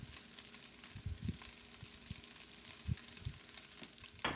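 Chicken pieces sizzle in a hot pan as soy sauce goes in, a soft steady frying hiss broken by a few low clunks and taps of a utensil, fairly quiet and close.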